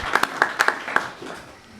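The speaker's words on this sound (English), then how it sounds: "We're going to clap for" An audience at a school committee meeting gives a short, sparse round of clapping for an AP Scholar, a handful of distinct claps that thin out within two seconds.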